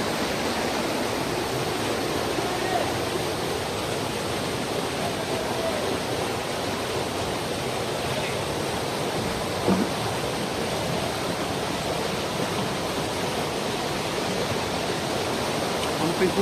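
River water flowing in Sikkim, a constant broadband rush and gurgle of a fast stream heard close and loud without pause.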